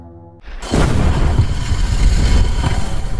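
A sudden deep boom bursts in after a brief quiet musical moment, followed by a sustained heavy rumble and crackling debris, as an explosion goes off near a buried coffin in the film Buried (2010).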